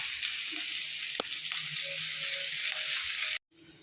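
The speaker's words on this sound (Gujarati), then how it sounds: "ઓઇલ ગરમ થઈ જાય ત્યાર પછી આપણે જીરું, તલ ને અજમો નાખીશું." Spices with ginger-chili paste sizzle steadily in hot oil for a Gujarati stuffed rotla dish, a loud continuous crackle with a few faint stirring clinks, cut off briefly near the end.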